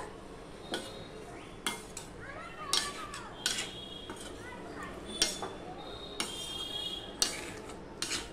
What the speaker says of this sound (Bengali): আমি তরকারিটা উপর নিচ করে দিচ্ছি, দেখতেই পাচ্ছ বন্ধুরা।